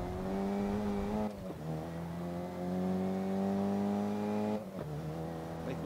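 A racing car engine in the video game GRID, racing through Havana, revs loud and close with rising pitch, dropping twice at gear shifts and climbing again, with no talk over it.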